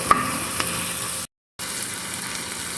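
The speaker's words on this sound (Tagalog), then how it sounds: "ibuhos kung ating sardinas" Sardines fry with onions in a hot pan, producing a loud, continuous sizzle close by that cuts out briefly midway, then resumes just as steadily.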